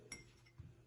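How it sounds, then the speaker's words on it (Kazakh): A metal spoon clinks twice against a dish while salt is scooped in during a children's science demonstration, two short bright taps close by with a quiet room between them. "Қасықпен тұз сала ғой."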